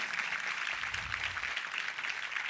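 Quiet, steady applause from the audience at a TRT radio evening music concert in Turkey, a soft continuous patter of many hands with no voices over it.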